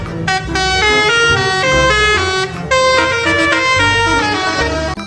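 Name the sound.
toy bus telolet horn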